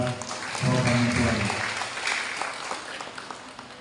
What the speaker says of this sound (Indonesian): Tepuk tangan buat program itu.